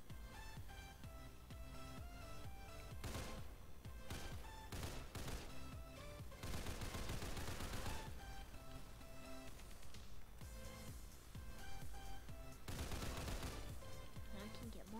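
Gunfire from the Roblox game Red Box, a steady stream of loud, rapid shots fired in bursts with brief pauses over a music bed, continuing throughout.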